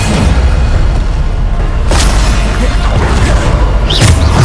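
A Bombarda spell explosion booms in Hogwarts Legacy, a loud, sustained roar of blast noise with a few sharper bursts rising through it, with no voices.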